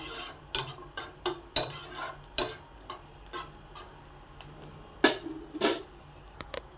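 A spoon or spatula stirs vermicelli frying in a pan with coconut, making irregular close scraping and clinking taps over a faint background sizzle.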